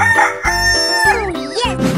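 Rooster crowing in an animal video game, a loud, close, drawn-out cock-a-doodle-doo with a rising and wavering pitch, heard alone and clearly.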